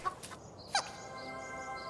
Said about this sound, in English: the chickens were still clucking